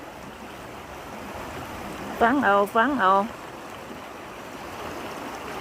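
A waterfall stream flows behind a rural house, a steady, even rush of water that fills the background throughout, with a voice briefly speaking over it midway.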